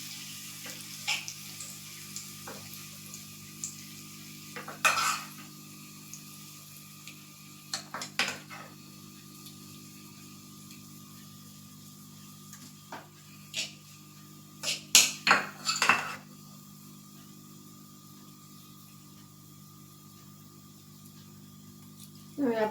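A spoon stirs a sesame-seed tempering into khandvi in a pan, with scattered sharp metallic scrapes and clinks against a low steady background hum, the taps clustering into a quick run near the middle and end.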